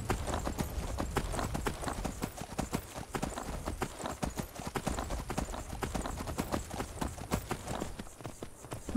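A fast horse gallops through Skyrim's Falskaar at night, a steady rapid clip-clop of hooves running continuously and close, with a faint whinny underneath.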